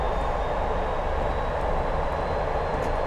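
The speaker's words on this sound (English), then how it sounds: "The Doppler effect on this motor is absolutely amazing." British Rail Class 205 diesel-electric multiple unit running between Great Yarmouth and Acle in Norfolk, a steady loud engine drone and rail rumble heard from onboard, without speech and without an audible Doppler shift.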